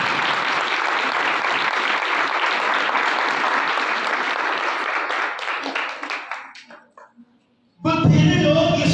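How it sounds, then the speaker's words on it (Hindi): Loud, sustained applause from a church congregation fills the space for about seven seconds, then thins out and stops, followed by a brief pause before a burst of other sound at the end. "आए खुदा की खुशी के लिए जोरदार तालियां बजाएं।"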